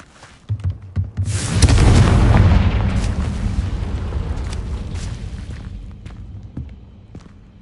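A Confringo spell blast in Hogwarts Legacy: a couple of sharp pops, then a loud, deep booming explosion that rolls on and slowly fades over several seconds.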